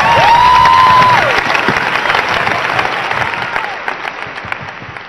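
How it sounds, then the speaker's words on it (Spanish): Crowd clapping at a large outdoor religious crusade in Colombia, loud sustained applause that slowly fades, with a brief whistle near the start. "¡Damos un aplauso para Jesucristo!"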